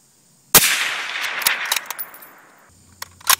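A suppressed gun fires supersonic ammunition, making one sharp, loud crack followed by a short ringing decay and a few fainter metallic clicks afterward.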